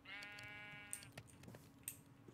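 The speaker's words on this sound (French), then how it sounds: "C'est un mouton?" Sheep bleating in the Minecraft video game: one quivering, wavering bleat up front, faint and mid-distance, followed by a few scattered clicks and taps.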